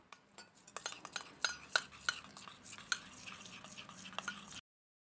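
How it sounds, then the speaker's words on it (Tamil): Rapid light scraping and clinking of a spoon stirring gram flour into water in a small bowl, steady and close, with sharper taps against the sides and no talking. "கொஞ்சமாக தண்ணி சேர்த்து கட்டி இல்லாமல் கரைச்சி வச்சுக்கலாம்"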